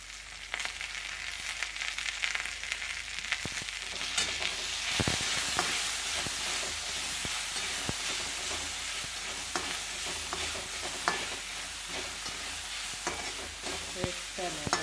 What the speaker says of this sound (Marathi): आता मी टोमॅटो, कांदा, लसूण, मिरची सर्व हलवत आहे